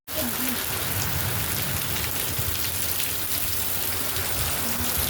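Steady rain pattering down continuously, a dense hiss of drops close by, with faint voices briefly in the background.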